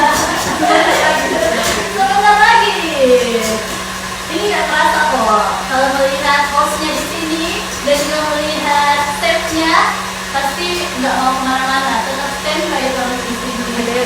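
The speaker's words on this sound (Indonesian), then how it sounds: "Oh, yang di mixer ini cuma whipped cream." An electric mixer whips cream for a dessert, a loud continuous motor whine running throughout under steady talking voices.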